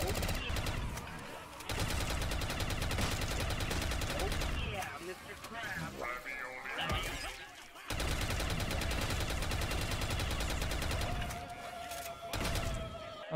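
Automatic gunfire in Call of Duty Black Ops 3 custom zombies, long sustained bursts broken by short pauses, loud and dense, with a voice speaking in the gaps.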